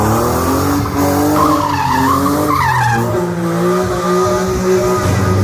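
A turbocharged Mazda MX-5 drifts sideways, with loud, sustained tire squeal layered over a revving engine that rises and falls through the whole stretch.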